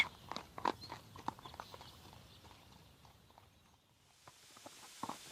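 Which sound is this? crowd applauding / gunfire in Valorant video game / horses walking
horses walking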